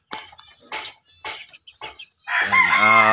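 A young backyard chicken on a vegetable plot gives four short, close clucks spaced about half a second apart. A louder, drawn-out squawking call follows them.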